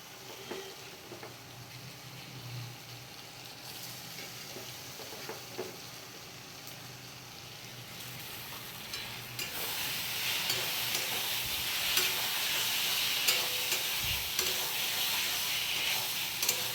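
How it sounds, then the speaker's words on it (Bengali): Soybean chunks fry with spices in a pan in a home kitchen, a soft sizzle that swells into a louder, steady hiss about halfway through, with occasional stirring sounds. "মশলার সাথে ভালো করে একদম কষা কষা করে ভেজে নেবো"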